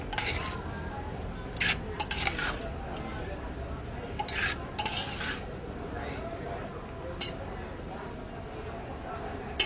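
Sliced mushrooms cook in olive oil with garlic in a pan, giving a soft sizzle with occasional utensil scrapes and clinks while a person talks over it.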